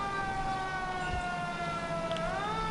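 A vintage ambulance siren in the L.A. Noire video game wails with layered tones that slowly fall in pitch and then rise again, steady and fairly loud over a low engine rumble, with no one talking.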